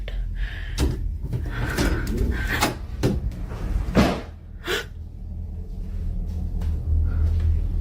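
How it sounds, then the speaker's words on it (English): Kitchen cabinets and a drawer banging in a dark house early in the morning, a few sharp knocks and thumps spread across the clip over a low steady rumble, with no talking. "I can hear my kitchen cabinets banging."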